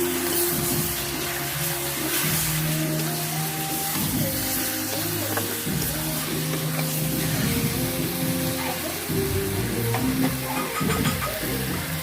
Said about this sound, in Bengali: আবার মশলাটা কষাবো।